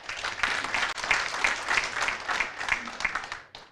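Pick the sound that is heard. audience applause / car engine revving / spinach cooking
audience applause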